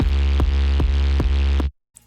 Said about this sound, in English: With a kick and without the sidechaining it sounds like this.